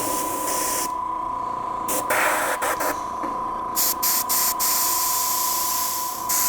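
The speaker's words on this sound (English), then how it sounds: "So the airbrush finishes it off quite nicely. I'll make sure my gun's spraying." A steady hiss of an airbrush spraying paint close by onto an aircraft fuselage model, broken by short gaps and quick on-off bursts as the trigger is worked.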